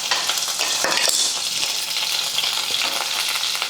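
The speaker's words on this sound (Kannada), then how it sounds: "ಇದನ್ನು ಸ್ವಲ್ಪ ಎಣ್ಣೆಗೆ ಫ್ರೈ ಮಾಡ್ಕೋಬೇಕಾಗ್ತದೆ" Curry leaves and crushed garlic frying in hot oil, a loud continuous sizzle and crackle with some stirring, close up and with no voices.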